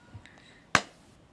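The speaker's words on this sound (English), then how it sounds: "And let me clap." A single sharp hand clap on a balcony, a crisp isolated burst followed by quiet, with a second clap-like hit at the very end of the short stretch.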